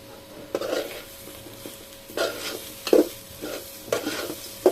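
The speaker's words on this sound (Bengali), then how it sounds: "এখন ঘিটা ভালো করে মিশাই নিতেছি।" Ghee is stirred into bhuna khichuri in a pot with a spoon, giving a soft, steady sizzle broken by several louder scrapes and clinks of the spoon against the pot, close and alone.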